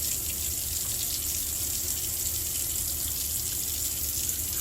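Tap water runs steadily into a sink, a constant broadband splash with no breaks while hands are washed with liquid soap, rubbed together in firm circular motions.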